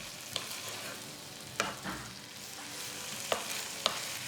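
Chicken siopao filling seasoned with pepper and salt is stirred in a pan, a quiet low sizzle punctuated by a few sharp spoon scrapes and knocks against the pan.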